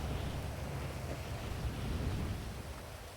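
Steady, even rain falls in the Minecraft All the Mods 7 game, a constant soft wash of noise with no breaks and no talk over it.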